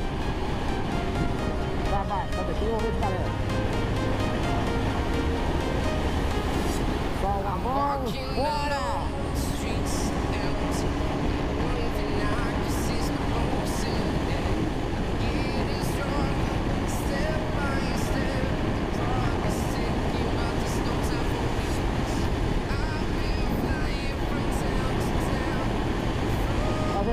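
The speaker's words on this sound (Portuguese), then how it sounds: "Vamos acelerar aqui com força pra ver se o vento vai interferir no áudio" A motorcycle accelerates hard while wind buffets a GoPro microphone, a steady loud roar and rumble that largely masks the engine, with someone talking over it briefly.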